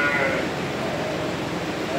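Sheep bleating in a barn, a wavering bleat sounding near and moderately loud over a background of people talking.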